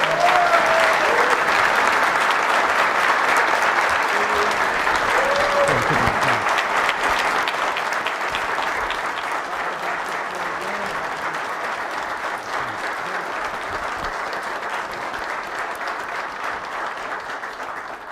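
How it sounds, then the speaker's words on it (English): Sustained, full applause from an audience at a city council meeting in Waukegan, loud at first and gradually easing over about eighteen seconds, with a few voices briefly audible early on. "Let's give Chief Navarro and his family a round of applause for being here."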